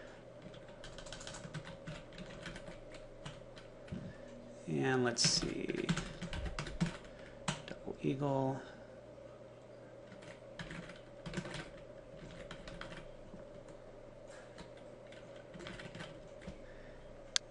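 Keywords are typed on a computer keyboard in quick, close bursts of crisp clicks, pausing while someone speaks briefly, then resuming with scattered taps over a low steady hum.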